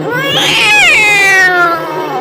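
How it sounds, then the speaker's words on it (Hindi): A big, scary cartoon cat gives a loud, drawn-out yowling meow with a rising then falling pitch, close and alone, lasting about two seconds. "रास्ते में उन्हें एक बड़ी सी डरावनी सी बिल्ली मिल गई"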